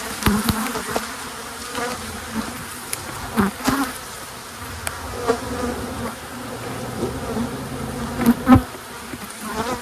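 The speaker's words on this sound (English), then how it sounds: "lots of bees, lots of angry bees bouncing off the camera here." A swarm of angry honey bees buzzes loudly and close around an open hive during a Demaree swarm-control inspection. The dense droning is continuous, with sharper thuds and whines as bees bounce off the camera, and no talking.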